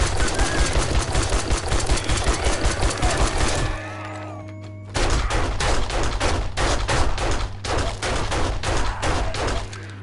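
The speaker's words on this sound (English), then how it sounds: "That's machine gun territory." Rapid machine gun fire in the zombie survival game 7 Days To Die, loud sustained bursts with a short pause near the middle before the rattling resumes.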